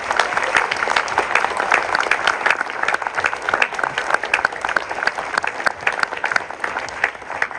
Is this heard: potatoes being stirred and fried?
no